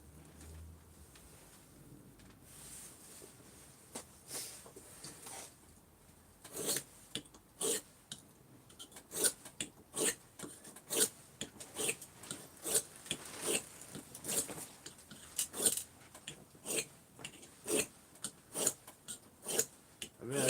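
A chisel being sharpened on a small stone from a chisel set, giving a run of rhythmic rasping strokes that grow louder and more regular after a quiet start, with no talking.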